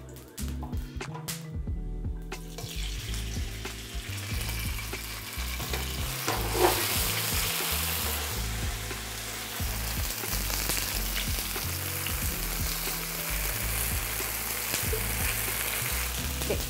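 Oil sizzles steadily in a hot, generously oiled pan while ingredients for tofu kimchi fry. The hiss is loud, dense and continuous, with light stirring clatter and no talking.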